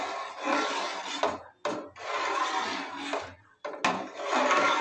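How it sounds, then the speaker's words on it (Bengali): Milk sweetened with date palm jaggery being stirred into payesh in a pot, a close, steady scraping rasp of the spoon in three long strokes separated by short pauses, with no talking. "আর বাটিতে যে গুড় দিয়ে দুধটা রেখে দিয়েছিলাম সেটাও এখন আমি এর মধ্যে ঢেলে দিচ্ছি, দিয়ে আবারও মিশিয়ে দিচ্ছি।"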